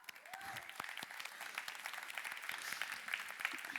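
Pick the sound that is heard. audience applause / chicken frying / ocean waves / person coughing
audience applause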